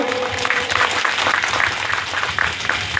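Audience at a drivers' convention in West Bengal, bringing together six districts, bursts into steady, dense applause; many hands clap together continuously and fairly loudly for a few seconds, with no speech over it.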